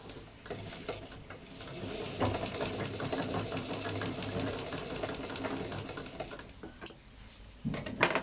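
A sewing machine stitches fabric in a steady, fast mechanical whir with light ticking, running continuously at moderate distance during a free cutting and stitching lesson.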